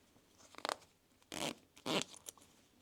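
Pieces of a clothing zipper are fitted together by hand, giving three short scratchy zipping bursts spaced about half a second apart, quiet and close with no speech.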